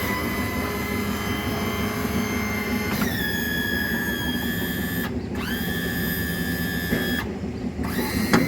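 Hydraulic trim pump on a rigid inflatable boat lowering its outboard engine, a steady electric-motor whine with shifting pitch that stops and restarts in short runs over a continuous background hum, close and fairly loud, no talking.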